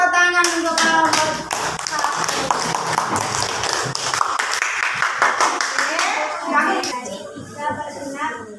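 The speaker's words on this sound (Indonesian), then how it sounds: "tepuk tangan untuk kelompok" A classroom of children claps for a group of classmates after a fractions problem, with rhythmic hand claps mixed with lively, overlapping young voices throughout.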